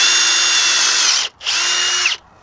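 A power drill with a 5/16 bit whines loudly in two bursts, each about a second long, with a brief pause between, drilling holes through van kitchen cabinets.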